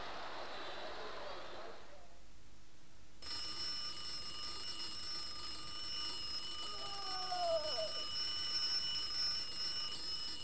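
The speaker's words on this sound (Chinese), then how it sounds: "呢一个是每日叫我哋起身翻学的闹钟。" An alarm clock suddenly starts ringing after a brief quiet pause, a loud, steady metallic ring that persists to the end, with a short sliding tone passing beneath it.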